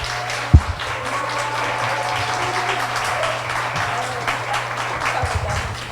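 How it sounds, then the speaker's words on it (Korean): An audience at a school admissions information session breaks into sustained, loud, close applause after a sharp knock at the start, and a voice speaks faintly underneath. "우리 김인숙 교장 선생님 박수로 모시겠습니다."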